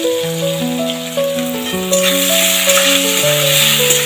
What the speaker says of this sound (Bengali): এবার কুচানো পেঁয়াজগুলো দিয়ে দেব। পেঁয়াজগুলো আমি লাল লাল করে ভেজে নেব।